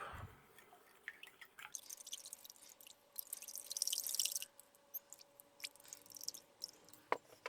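Peach-flavoured drink powder from a Russian special forces 24-hour ration being stirred into water, with soft liquid swishing, faint clinks and drips in a quiet close-up setting, plus a brief louder burst of fizzy stirring midway.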